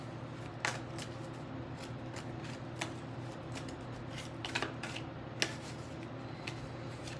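Crisp riffling clicks of cards being shuffled, a few distinct bursts spaced apart over a steady background hum.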